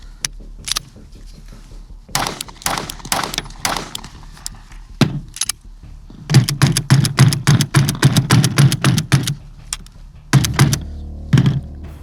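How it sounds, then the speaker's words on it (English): An OSIGHT S micro red dot optic banged repeatedly on a table at a shooting range: sharp hard knocks, first a few scattered, then a rapid loud cluster of thuds, close and alone. "So just banging the OSight S on the table there."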